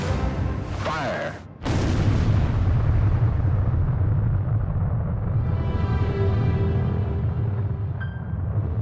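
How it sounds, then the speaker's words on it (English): A massive detonation at the first atomic bomb test site, heard from miles away as a sudden deep boom followed by a long, heavy rumbling roar that stays loud and sustained. "the first atomic bomb is detonated"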